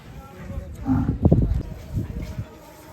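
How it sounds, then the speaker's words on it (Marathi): A racing bull arrives at a bullock-cart race ground in Maval. It gives one close, deep, rough bellow that rises and fades over about a second and a half, followed by a softer grunting tail. "बैल आला बघा"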